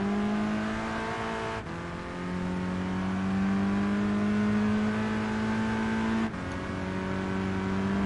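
A Volkswagen Scirocco engine in Gran Turismo Sport revs loudly and steadily, its pitch climbing through two gear changes with short dips, heard alone without talk.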